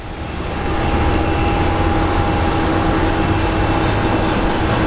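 American Airlines airliner arriving from Dallas Fort Worth at Phoenix Sky Harbor airport, its jet engines building into a steady, loud roar with a sustained whine, heard alone.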